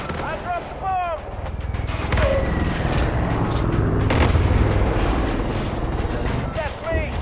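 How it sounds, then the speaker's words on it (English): Bomb explosion and gunfire in Far Cry 5 on PS5: a sustained, loud roar of rumbling blasts and rapid shots that builds and continues, with game voices talking at the start and the end. "I dropped the bomb!"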